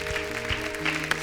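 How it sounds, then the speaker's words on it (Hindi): Audience applause on a Kapil Sharma talk show, brief clapping from the studio crowd mixed with background music and a low hum, short and somewhat busy. "जोरदार तालियां हो जाए।"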